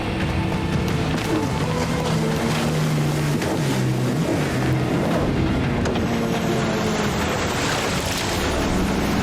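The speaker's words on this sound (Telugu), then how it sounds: "వాళ్ళు ఆ మోటార్ బోట్ లో ఉన్నారు" Motorboat engine in an animated Motu Patlu cartoon chase, a loud, continuous droning whine with splashing water beneath and some shifting tones, running throughout.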